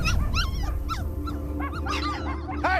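Several puppies bark and yip repeatedly on a residential street, high-pitched overlapping barks in quick bursts, fairly close and loud over steady background noise, with no talking.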